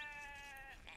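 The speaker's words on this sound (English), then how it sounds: "Oh, we could steal sheep, though." A single sheep bleats in the video game Age of Empires II, one short, wavering, nasal call that is faint and heard alone.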